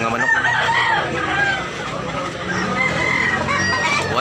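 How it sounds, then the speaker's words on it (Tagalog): Chickens and roosters at a Tabunok, Cebu poultry stall cluck and crow loudly at close range, overlapping calls filling the air with a busy farmyard chorus. "Gandang mga manok"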